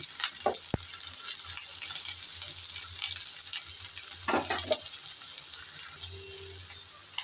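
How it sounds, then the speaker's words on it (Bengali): Bitter gourd stir-fried in a pan with no added oil, after onion and garlic were fried and removed, gives a steady close sizzle with scraping stirs and a few sharper clatters throughout. "আমি কিন্তু এই করলা ভাজার মধ্যে আর তেল ব্যবহার করব না।"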